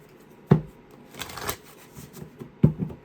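Tarot cards shuffled by hand, with two sharp riffling bursts at start and end and softer card rustling between, close and fairly quiet with no talk.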